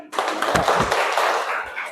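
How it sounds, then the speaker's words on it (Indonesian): A classroom claps hands together, a brief burst of scattered near claps lasting under two seconds. "Kita kasih tepuk tangan buat Farid."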